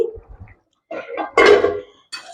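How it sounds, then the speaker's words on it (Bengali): Lid lifted off a pot of chicken cooking with roasted coconut, a few close metallic clanks and a ringing scrape of metal on metal, then a faint clink at the end, with short silences in between. "মানে ঢাকাটা খুলে দিলাম"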